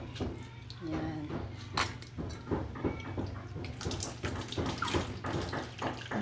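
Bean sprouts are rinsed under a running kitchen tap, a steady splash of water with small clicks and handling noises as they are rubbed clean. It is fairly faint and continuous throughout.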